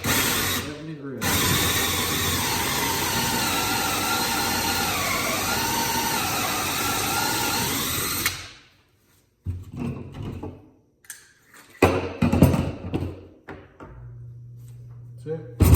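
A power drill runs loud and continuous for about eight seconds, boring holes for a homemade fishing rod holder, then stops, leaving short bursts of handling and workshop clatter.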